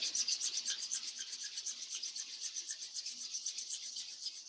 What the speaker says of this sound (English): Rubbing our palms together.